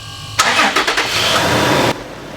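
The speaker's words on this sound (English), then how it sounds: "All right, first engine start." A 5th gen Toyota 4Runner fitted with an S&B cold air intake cranks and fires up, a loud close burst of engine noise that settles into a steady idle for over a second before cutting off abruptly.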